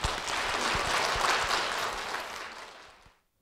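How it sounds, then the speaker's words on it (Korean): Audience applause fills a church service as a guest is welcomed, a steady burst of clapping from a congregation that holds for about three seconds before fading out. "여러분 박수로 모시겠습니다"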